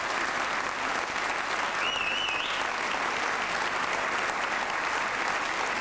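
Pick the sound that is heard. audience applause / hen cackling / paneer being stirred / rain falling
audience applause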